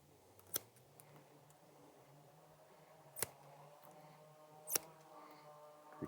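Pruning shears make heading cuts on a fruit tree branch: three sharp, separate snips with long gaps between them, set against a quiet, faintly tonal background.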